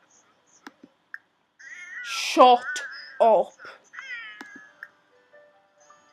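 A cat in the Sims 4 Cats and Dogs video game gives several loud, drawn-out meows in close succession, with a brief voice speaking alongside.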